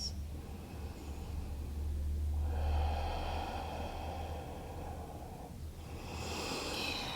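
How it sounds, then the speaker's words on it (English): Slow, steady breathing of a person holding a pose during a slow vinyasa yoga flow, long airy inhales and exhales close to the microphone, with no talking. "2 more breaths."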